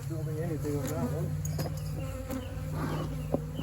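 Honeybees buzz in a dense, steady drone around a hive in a garden, agitated and close, with faint voices murmuring beneath the hum.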